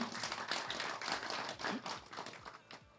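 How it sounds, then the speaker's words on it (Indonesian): An audience at an urban settlement talk gives Prof. Gunawan another round of applause, a dense crowd clapping that swells and then gradually thins and fades toward the end. "Mari beri tepuk tangan sekali lagi untuk Prof. Gunawan."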